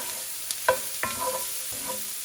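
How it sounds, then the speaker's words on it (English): Carrots and other vegetables for Spam and pineapple fried rice frying in a cast iron pan, a soft sizzle broken by a few scraping stirs close by. "I'm cooking this in a cast iron pan because it was here"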